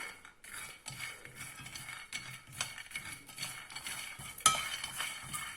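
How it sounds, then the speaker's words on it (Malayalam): About three-quarters of a cup of peanuts dry-roasting in a pan for chutney, stirred continuously with a spoon, giving repeated scraping and rattling strokes with faint sizzling, close and moderately quiet, with no talking. "ഒരു 3/4 കപ്പ് കപ്പലണ്ടി എടുത്ത് നന്നായിട്ട് വറക്കണം."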